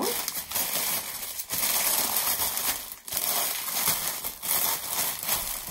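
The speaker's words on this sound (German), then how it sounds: "dann nehme ich einfach ein Stück Folie" Plastic foil being crinkled and handled while making a grass basket, a steady close rustling and crackling that runs almost without pause, with a few brief dips.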